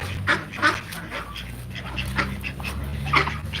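Several backyard ducks quacking in short, irregular bursts at close range, with a low rumble of wind or handling noise underneath and no talk.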